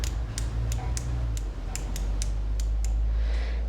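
Gearwrench 120XP quarter-inch ratchet clicking in a quick run of about nine sharp, evenly spaced ticks, close and fairly quiet over a low background hum.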